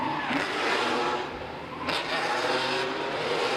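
A drift car in D1NZ pro qualifying at Tauranga roars out of the first turn, the engine loud and steadily revving at close range with a brief dip before climbing again.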